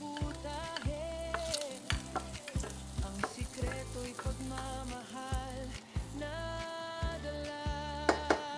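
Garlic sautéing in a pan gives a continuous sizzle under a rhythmic, tonal background of music, with scattered sharp clicks and crackles throughout and no voices.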